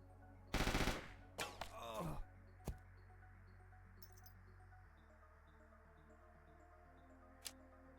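A few sharp gunshots from the Mars Tactics video game ring out near the start, one loud burst followed by scattered cracks, then quiet ambience with a faint ticking and a lone late shot.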